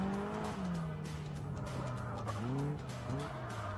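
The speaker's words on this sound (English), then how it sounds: "He can drift." A Caterham race car drifting on the track at Brands Hatch, with long, loud tyre squeal that bends in pitch over a steady engine drone, continuous and close, with no voices.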